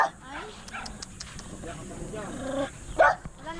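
A family pet dog barks and yips a few times amid loud overlapping conversation outdoors during a picnic gathering, the barks short and somewhat close, mixed under people talking.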